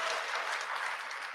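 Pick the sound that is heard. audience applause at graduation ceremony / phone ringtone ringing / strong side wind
audience applause at graduation ceremony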